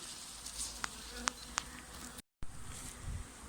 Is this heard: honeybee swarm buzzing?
yes